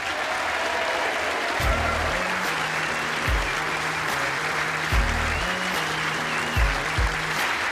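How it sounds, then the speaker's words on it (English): A crowd at an indoor bowls championship ladies' final claps steadily and warmly throughout, the dense applause running continuously while music or a low tone plays underneath. "Please continue that applause, ladies and gents, for your runner-up for this match,"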